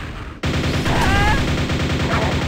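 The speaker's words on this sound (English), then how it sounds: "The nail gun sound effect, which was apparently a straight pull from the original Quake" Rapid-fire ETF rifle from Quake II: Ground Zero using the original Quake nail gun sound, a sudden loud, steady stream of quick metallic shots lasting about two seconds.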